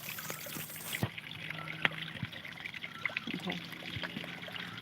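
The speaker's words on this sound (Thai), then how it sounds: "เห็นน้ำเราเห็นน้ำใสไหลเย็นเลยมีความสุขนะคะพี่น้อง" Quiet trickling water flows steadily in the background, with faint splashes and a few soft clicks, with no clear voice.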